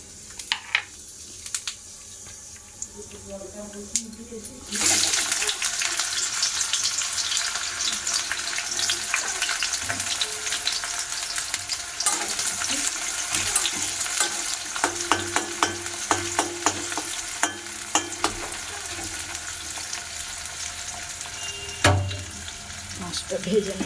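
Curry frying in a pan and being stirred, with a steady loud sizzle that jumps up suddenly and continues under scattered scraping and clinks, plus some running-water noise.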